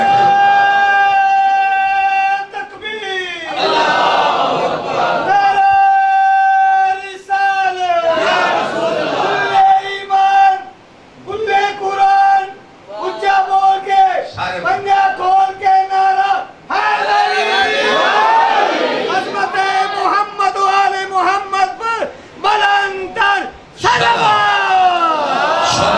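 A large gathering at a Shia religious majlis chants slogans in loud, sustained unison, with repeated rhythmic call-and-response bursts and brief pauses between shouts.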